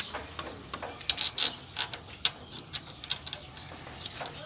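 A screw being tightened on a motorcycle knuckle gives off faint, irregular ratcheting clicks and metallic ticks in quick bursts, close by, with no talk over it.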